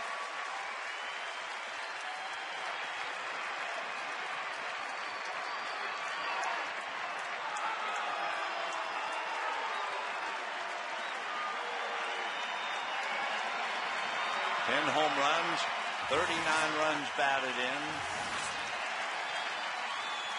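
A baseball crowd at an Atlanta stadium keeps up a steady, distant roar and cheering under continuous play-by-play commentary, swelling briefly near the end.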